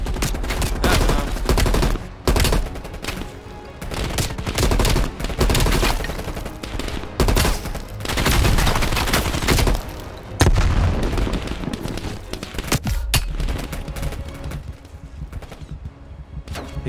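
Anti-aircraft guns pound away in a Call of Duty Black Ops Cold War battle, dense and loud bursts of heavy gunfire and booms rolling almost continuously with brief lulls.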